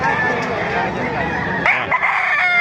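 Several roosters crow loudly and repeatedly close by in Bocaue, Bulacan, with hens clucking in between and a voice briefly heard in the background.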